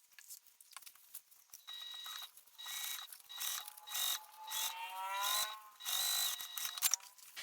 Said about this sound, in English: We're actually going to top stitch on the vinyl piece with that seam behind it.